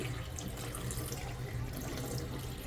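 A bathroom tap runs steadily into a sink while a toothbrush is rinsed, a continuous close splashing hiss of water with no voices over it.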